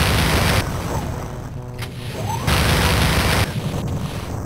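Rocket launcher explosions in Wolfenstein 3D merge into a loud, continuous roar of booming blasts that swells and dips in blocks, with no talking.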